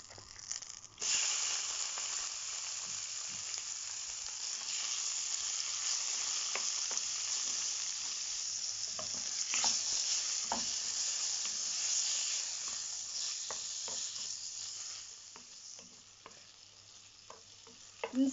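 Chicken breast dropping into two spoons of melted butter sets off a sudden loud hiss that settles into a strong, steady sizzle, close by, slowly easing toward the end before a final burst; no one speaks.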